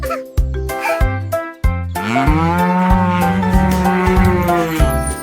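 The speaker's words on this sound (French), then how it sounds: "il meuglait de joie" A cow moos loudly and at length, a long deep lowing call following a few shorter bursts.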